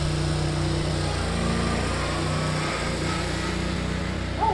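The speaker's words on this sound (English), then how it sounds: "Oh, cool, stand-up lawnmower." Stand-up lawn mower running nearby, a steady engine drone with a constant low hum that holds even throughout, no talking over it.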